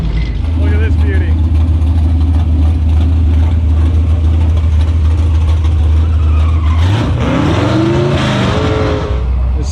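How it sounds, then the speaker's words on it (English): A big-tire 1967 Camaro with a 406 small block and Powerglide transmission roars loudly at a drag strip, a heavy engine drone that rises into a hard rev sweep near the end, with people talking over it. "67 Camaro's got a 406 small block on a Power Glide transmission"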